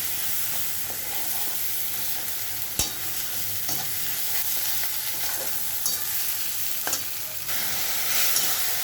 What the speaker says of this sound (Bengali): আদা, জিরে, ধনে, হলুদ, লবণ আর কাঁচা লঙ্কা বাটা একসঙ্গে এগুলো কষিয়ে নেব